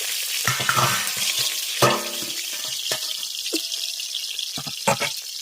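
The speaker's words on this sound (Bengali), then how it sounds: "এদিকে আমাদের মাছগুলো ভাজা হয়ে গেছে এগুলোকে তুলে নেব" Katla fish pieces frying in oil in a pan give off a steady, close sizzle, with a few sharp clinks and scrapes of a utensil against the pan.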